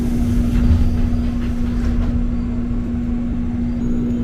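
A KRL commuter train heading toward Angke rolls through Jatinegara station with a loud, steady rumble and a constant humming tone, heavier at first and then evening out.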